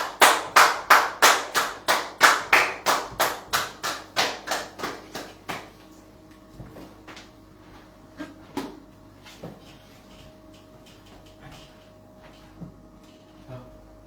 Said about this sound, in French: Nous applaudissons le roi des rois.